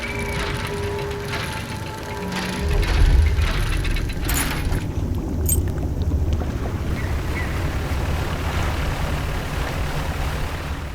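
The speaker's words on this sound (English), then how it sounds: "The droning of this machine at Starlight Basin might sound annoying" Low, steady droning hum of a machine at Starlight Basin in the fishing game DREDGE, continuous throughout beneath a windy, watery wash of boat ambience, with no voices.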